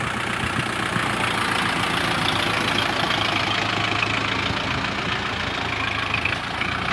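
A tractor engine runs steadily while ploughing a field, a loud, continuous low drone with a knocking rumble close by and no pauses or talking.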